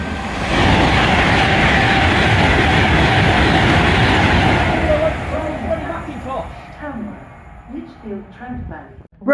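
A loud freight train bound for Felixstowe rumbles past close by at Nuneaton with rhythmic wheel clatter and grinding, then fades as it moves away, leaving quieter scattered noises.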